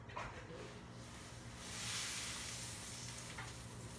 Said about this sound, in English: So I don't know if you can hear the sizzling.